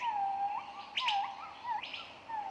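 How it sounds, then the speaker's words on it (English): Budgies chirp in a quick series of bright, whistled tweets and short trills, clear and fairly close against a quiet background. "A symphony of chirps they bring, their melodies like the joy of spring."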